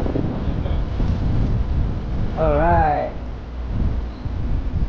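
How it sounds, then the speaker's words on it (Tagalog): Strong wind on Fortune Island buffets the microphone with heavy low rumbling gusts throughout, while a person briefly remarks in Filipino on the strong wind in the middle. "Ay, lakas ng hangin"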